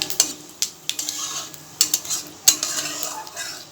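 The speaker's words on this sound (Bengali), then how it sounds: "ফোড়নগুলো 2 সেকেন্ড মতন আমি একটু ভাজা ভাজা করে নিলাম।" Whole tempering spices fry briefly in a wok while a utensil clinks and scrapes against the pan in sharp, irregular knocks, over a faint background sizzle.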